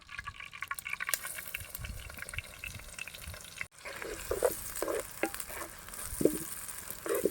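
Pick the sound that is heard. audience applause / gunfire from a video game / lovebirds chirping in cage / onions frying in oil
onions frying in oil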